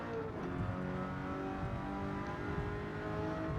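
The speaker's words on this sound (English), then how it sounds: "We'll make this engine absolutely sing. It sounds a charm." A racing Alfa Romeo 8C engine in Gran Turismo 7 on the Tokyo Expressway drones steadily with a sustained, rising harmonic tone, a continuous held note at moderate loudness with no talking.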